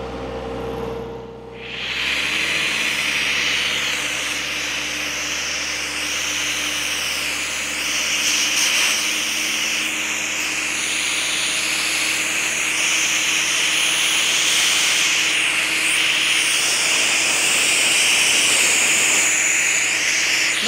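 Compressed air hissing steadily out of an air hose that has sat unused, a loud, continuous broadband rush after a brief quiet start, lasting the whole stretch with no speech.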